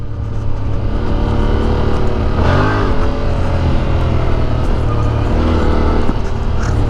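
A Yamaha Tenere 700 motorcycle engine drones loudly and continuously on a rough dirt road, with a brief rise in revs partway through and no talking.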